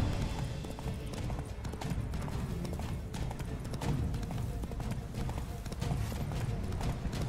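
A horse gallops in The Witcher 3: Wild Hunt, Blood and Wine, with steady rapid hoofbeats, close and continuous, under game background noise and occasional speech.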